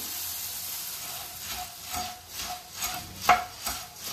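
Puffed rice (puri) tossed into a pan for a tempered snack gives a soft crackling sizzle, with gentle rhythmic stirring scrapes that grow slightly louder, plus one sharper clink near the end.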